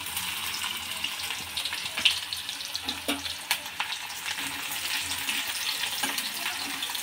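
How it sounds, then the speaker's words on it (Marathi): Finely chopped garlic and onion added to hot oil with cumin and mustard seeds, a continuous close sizzle with small crackling pops and a few stirring knocks, no talking. "हा बारीक चिरलेला लसूण टाकायचा, बारीक चिरलेला कांदा"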